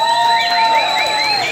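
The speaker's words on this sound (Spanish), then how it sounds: "Aplausos para la Mujer Maravilla." A night-club Halloween crowd cheers and whoops loudly for a woman in a Wonder Woman costume, with shrill shouts and whistling over a dense roar of voices, close and continuous.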